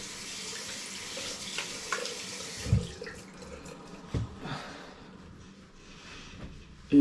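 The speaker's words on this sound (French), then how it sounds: "on se rince les mains." Tap water runs into a sink while hands are rinsed, a steady close splashing stream broken by a few knocks and clatters before it ends abruptly.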